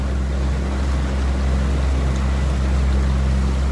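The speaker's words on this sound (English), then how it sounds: "I've been trying to test this motor a bit" A small boat motor runs steadily on the water, a constant low droning hum with a watery wash on top, close and loud, with no voices.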